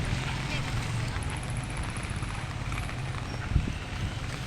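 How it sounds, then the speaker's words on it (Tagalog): Strong floodwater current rushes steadily, carrying debris along a swollen waterway close to overflowing, a continuous loud roar with wind buffeting the microphone and no pauses. "Lumalakas yung agos eh. Dami ng mga dumi na naaanod."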